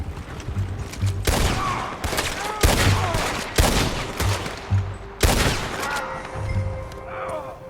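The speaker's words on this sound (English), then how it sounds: "Sorry, gun just, went off in my hands." Gunfire in Red Dead Redemption 2 during a tense standoff: repeated loud, sharp shots fired close in quick uneven succession, each with a booming low tail and brief echo.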